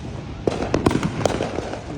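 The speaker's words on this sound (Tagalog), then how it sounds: "So puro paputok." Fourth of July fireworks in the United States, a scatter of sharp pops and crackles at a middle distance against steady background noise, with a few bursts clustered close together.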